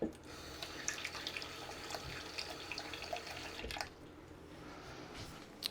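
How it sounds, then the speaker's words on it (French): Tap water runs steadily into a graduated measuring jug for a microwave paella, a continuous splashing flow with small drips, cutting off near the end with a brief clink. "je prends mon pichet gradué et je vais chercher 250 ml d'eau"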